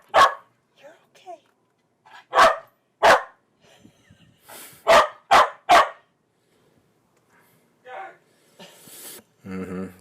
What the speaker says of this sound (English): Puppy interruption.